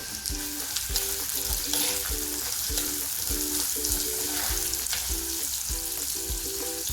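Onion and garlic cloves fry in hot oil with fenugreek in a pan, giving a steady close sizzle with frequent spattering pops, while a faint repeating tonal pattern, likely background music, runs underneath.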